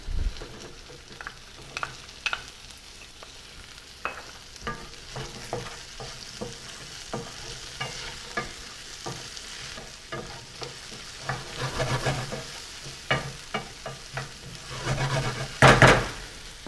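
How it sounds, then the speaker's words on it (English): Zucchini sautéing in a pan: a steady sizzle runs throughout, broken by repeated clicks and scrapes of stirring, with a louder clatter of the pan near the end. "Next in the zucchini."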